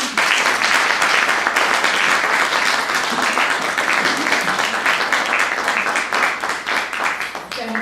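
A room full of people applauding to welcome the poet Mary Stewart Hammond to a library reading. The clapping is dense and steady, stays strong throughout, and tapers only slightly toward the end.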